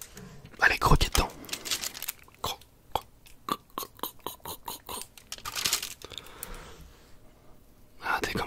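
Crunchy bites and moist chewing of chocolate with caramelized peanuts, close and intimate, a sharp bite near the start followed by steady munching, with a soft murmur and a breath between.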